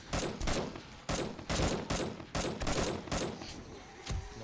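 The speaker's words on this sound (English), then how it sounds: "Sniper rifle is so good." Sniper rifle fire in the video game 7 Days to Die, with a rapid series of sharp, loud gunshots in quick succession, each followed by a brief echoing tail.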